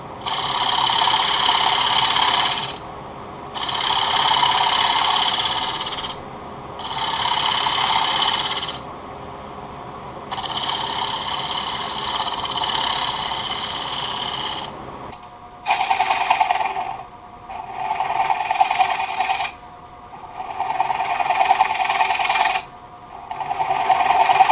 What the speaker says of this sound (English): And now back with the round carbide tool, I'm going to start turning away the foot.